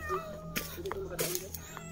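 A cat meows outdoors, a few drawn-out, whiny cries spread across the moment, close and fairly clear, with men chatting casually around it.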